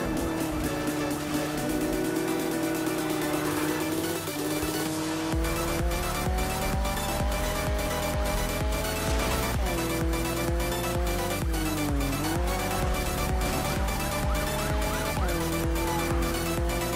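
A car in the 2015 Need for Speed racing game accelerates hard through repeated gear shifts, its engine note climbing and dropping in a rapid, rhythmic stutter, loud and close, with tire noise over a driving backing track.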